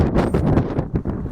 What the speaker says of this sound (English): very cold, very windy.